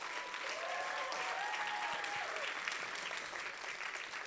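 Sustained applause from a sizable crowd, dense and even throughout, with a faint voice or whistle-like tone briefly audible underneath.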